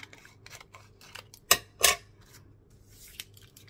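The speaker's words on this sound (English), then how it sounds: "So I'm just going to cut that off there." Scissors snip through a sheet of vellum paper up close, with two sharp, distinct cuts in the middle and faint handling rustles around them, no voices.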